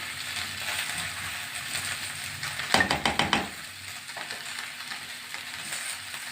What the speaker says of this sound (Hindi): ये शिमला मिर्च फ्राई हो रही है।